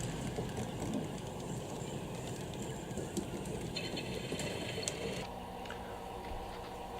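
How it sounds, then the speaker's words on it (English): Low rumbling of a model train, the Eastbound Perishable departing Santa Cruz, with rhythmic clanking and mechanical ticking, steady and moderately distant, no talking. "number 202 departs Santa Cruz heading east"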